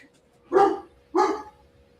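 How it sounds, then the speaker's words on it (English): A dog barks twice, close by and loud, with two short, evenly spaced woofs against a quiet background. "My dog's barking."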